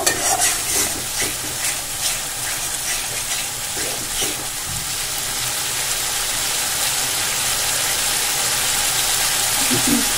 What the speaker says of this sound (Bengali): 2 থেকে 3 মিনিট এইভাবে একটু মিডিয়াম ফ্লেমে রেখে আমি মশলা নাড়াচাড়া করে নেব।